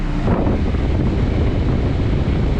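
Steady broadband rush of a European car's air conditioner blowing hard from the vents, a constant close airflow hiss with low rumble, no talking.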